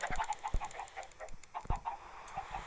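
Short, repeated clucking-like calls from a Minecraft chicken in a steady series, with a few low thumps underneath, fairly close and clear.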